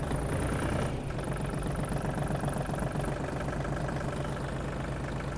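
A Mitsubishi GOZ-32 Japanese mini tractor pulls away with its engine chugging in a loud, rapid, knocking rhythm close by, with no one speaking.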